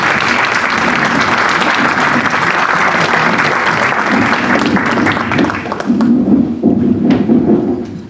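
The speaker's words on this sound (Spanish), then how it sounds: "yo creo que merecen un aplauso, ¿verdad?" An audience at a technical panel on data center construction and operation gives the speakers sustained applause, full and close, tapering off near the end as murmuring and shuffling take over.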